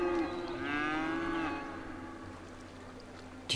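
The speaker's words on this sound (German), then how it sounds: "Die Kühe, Alter, schreien voll in die Landschaft." A cow in the Cities: Skylines video game gives one long, loud moo with a falling pitch, which fades out over a quiet background, followed by a brief click at the end.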